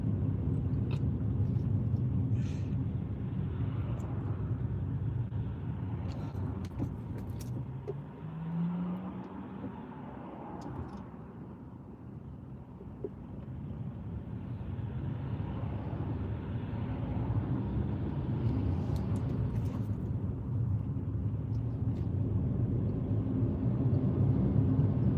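Car engine rumbling steadily through a driving lesson, a low continuous drone that dips briefly in the middle as the gas eases off before building again.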